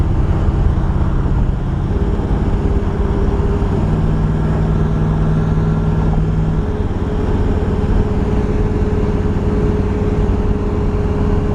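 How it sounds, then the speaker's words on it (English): A 1970 Camaro RS/SS engine running while driving, a loud, steady low rumble with sustained drone tones and constant road noise and no speech. "Smooth running car."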